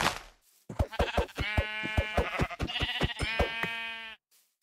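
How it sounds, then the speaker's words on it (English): Sheep in Minecraft bleat over and over, a string of short, fairly loud, evenly spaced bleats that run together for about four seconds with no talking. "I'm gonna kill this sheep."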